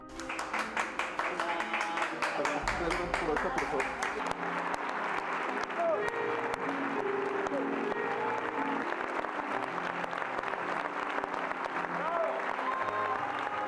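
A theatre audience gives a long, sustained ovation for actor Ignacio López Tarso, thick continuous clapping that stays loud and even, with crowd noise and some voices mixed in.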